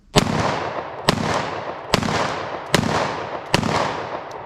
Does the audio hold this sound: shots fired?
yes